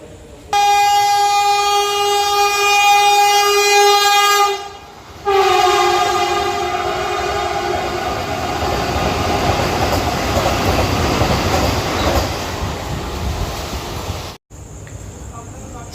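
A Jaleswar MEMU passenger train pulls into a station, sounding a loud sustained horn blast, a brief pause, then a second long blast before the rumble and clatter of rolling carriages takes over, with station voices faintly underneath.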